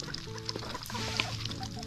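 Chickens on a farm, including a large Rhode Island hen among ducks, cluck in short repeated calls close by, with scattered bird noises over a busy background.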